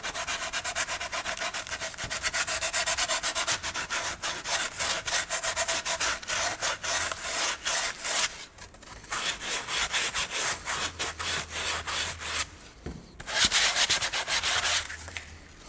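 Folded sandpaper rubs by hand against a small carved wooden heart in fast, continuous back-and-forth strokes, close and loud with brief pauses between bursts.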